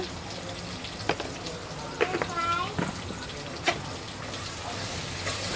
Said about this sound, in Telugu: ఇవన్నీ లైట్గా ఫ్రై ఫ్రై అవ్వనిస్తాను